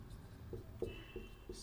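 Pen scratching on paper as a maths solution is written out, short soft strokes spaced through a quiet room.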